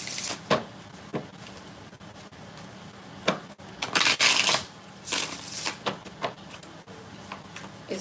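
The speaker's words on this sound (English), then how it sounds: "2 more shuffles for Spicy Pineapple." Tarot cards being shuffled by hand: repeated crisp riffling bursts, close and clear, some short and some longer, separated by brief pauses.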